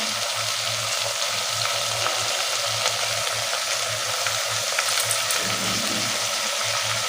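Tomatoes with salt sauté in a pan, giving a soft, steady sizzle with light stirring scrapes over a low pulsing hum.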